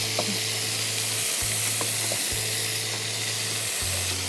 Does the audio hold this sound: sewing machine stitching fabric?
no